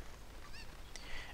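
A cucco chicken from the Zelda Ocarina of Time video game gives a couple of short, faint clucks and squawks over soft background noise.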